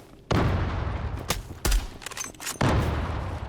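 Gunfire in the battle royale video game Zula Battle Royale: several sharp, loud bursts of shots in close succession, with rumbling booms and a steady game background between them.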